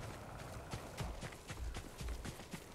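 Hooves of a horse ridden in the Ghost of Tsushima video game clip-clop in an irregular walking rhythm, fairly close and distinct, with no voices.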